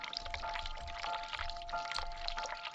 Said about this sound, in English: I can hear the sound of water running.